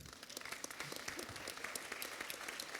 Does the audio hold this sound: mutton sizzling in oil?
no